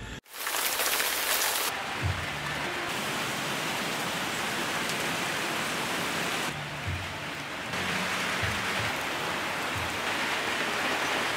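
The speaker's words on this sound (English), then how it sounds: "it's chucking it down with rain, and it's going to be raining for the rest of the day" Steady, heavy rain pours down without a break, a dense hiss of drops drumming on surfaces, with no voices.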